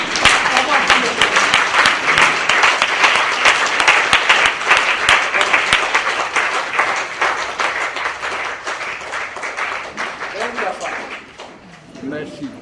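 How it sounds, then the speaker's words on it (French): Sustained applause from an audience clapping to praise the Lord at a gathering, dense and loud before gradually thinning out, with a voice speaking over it. "On va vraiment dire merci à Dieu en acclamant le Seigneur"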